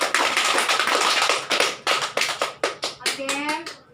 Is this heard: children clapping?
yes